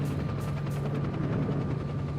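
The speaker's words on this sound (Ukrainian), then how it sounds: "Можна вертольот збити?" Helicopter in S.T.A.L.K.E.R.: Shadow of Chernobyl, a steady low rotor drone with a faint rhythmic chop, continuous and fairly loud throughout, with no voices.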